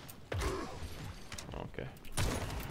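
Androxus fires in the Paladins video game, a burst of sharp gunshots and mechanical clacks under busy game noise. Someone talks over the shots.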